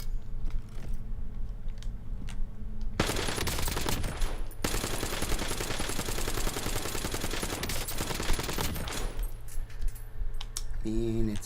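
A sustained burst of rapid automatic gunfire in Black Ops 7, fired with high-velocity ammunition, roars loud and dense for several seconds between quieter stretches of game ambience.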